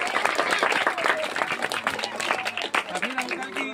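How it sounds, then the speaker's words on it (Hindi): Audience at a charity event with free study materials and a blood donation camp breaks into applause, dense clapping spreading through the crowd with voices mixed in. "सबसे पहले तो ताली बजाइए"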